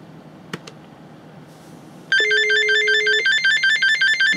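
After a few faint clicks, an ISDN telephone on a Speedport W900V router answers a *51 dial with a loud, harsh electronic tone, a dense buzzy warble with a steady lower note underneath, continuing to the end.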